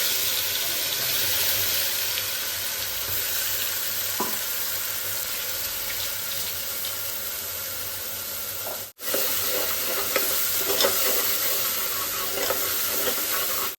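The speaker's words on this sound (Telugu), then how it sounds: "ఇప్పుడు కుక్కర్ పెట్టుకుని ఆయిల్ హీట్ అయ్యాక ఈ మసాలా అంతా వేసేసుకోవాలి." Ground masala paste fries in hot oil inside a pressure cooker for mutton pulusu, giving a loud, continuous, crackling sizzle that cuts out for a moment near the middle before resuming just as strongly.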